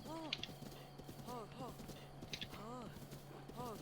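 Hooves clip-clop in a video game with a steady walking rhythm, in short clustered bursts that keep going under a continuous hum, and speech is also heard.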